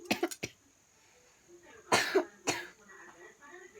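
Several sharp coughs come in quick bursts, then a couple more after a pause, close and fairly loud with a faint tone in the background.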